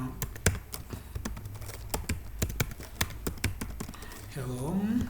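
Typing Python code on a computer keyboard: a quick, uneven run of close, sharp key clicks that continues for several seconds, with a voice starting to speak near the end.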